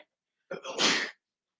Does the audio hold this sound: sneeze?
yes